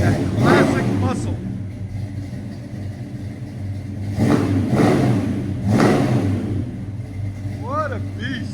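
A 1970 Buick Skylark V8 with headers and Flowmaster 40 Series mufflers rumbles at idle, swelling into a few loud revs; talk runs over the engine throughout.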